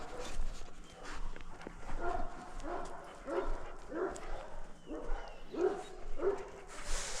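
A dog barks repeatedly outdoors, several separate woofs spaced about a second apart at moderate distance, with light background noise and a hint of a voice.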